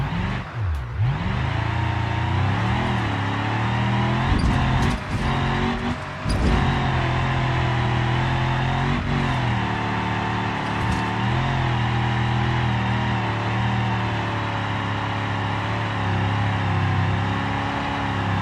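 A cargo van with a 5-liter engine and race intake climbing a hill in the video game BeamNG, the engine revving hard and droning continuously with shifting pitch and brief dips.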